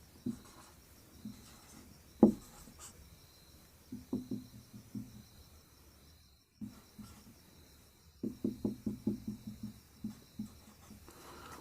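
A pen draws a small triangle on paper during a class-10 lesson, making faint, close scratchy strokes in short bursts separated by quiet pauses.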